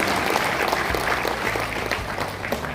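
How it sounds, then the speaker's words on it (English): Audience applauding at the opening ceremony of the ASEAN Council of Teachers convention, a dense, steady patter of clapping from a crowd filling the hall with no talking over it. "let's give a round of applause to you."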